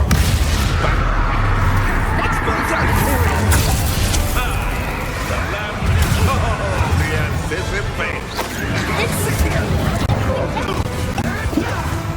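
Repeated Bombarda spell blasts in Hogwarts Legacy come as loud booming explosions and crashing impacts over constant battle noise, with a voice shouting throughout.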